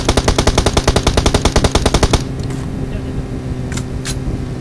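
Rapid automatic gunfire in the battle royale game PUBG Mobile, a loud even burst of roughly twenty shots over two seconds, then a quieter background with a couple of faint distant pops and a voice talking.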